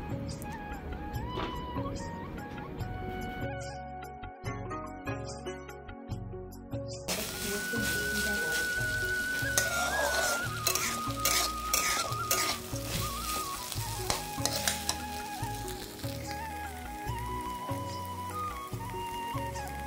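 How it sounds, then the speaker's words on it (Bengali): Vegetables for veg pulao fry lightly in a pan, a continuous close sizzle with stirring scrapes and utensil taps, mixed with background music. "আর দেখুন এরকমভাবে একটুখানি এটাকে হালকা করে ভেজে নেব।"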